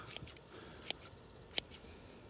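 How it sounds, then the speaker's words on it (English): Garden pruners snip roots off freshly harvested garlic bulbs, giving a few sharp close clicks, two of them distinct, over faint outdoor background. "we just take the pruners, cut all the roots off"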